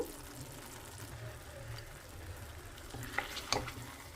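Snake gourd kootu gets stirred in a pan after garam masala and lemon juice go in, a faint continuous simmer with soft scraping stirs and a couple of brief clinks near the end.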